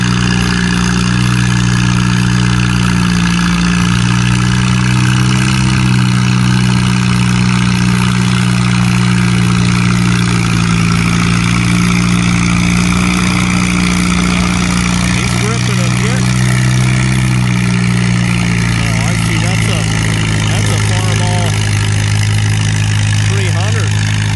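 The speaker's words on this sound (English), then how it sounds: "What's a thunderous sucker? A lot of belly bass in that tractor." A pulling tractor's engine roars loud and steady at a Farmall versus John Deere tractor pull, with deep bass-heavy rumble throughout and an announcer talking over it.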